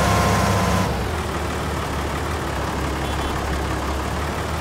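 A Ford tractor engine in the video game Farming Simulator 22, a loud, steady low drone that drops slightly in pitch early on and then holds constant, no talking.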